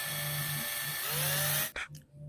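A Dongcheng cordless drill whirs steadily at close range, its motor pitch rising as the trigger is squeezed harder, then cutting out abruptly with a short clunk and brief spin-down.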